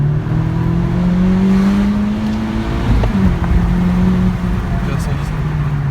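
A Honda Civic Type R accelerates hard, engine note climbing through gears with a brief shift dip, heard from inside the cabin with road noise and people talking over it.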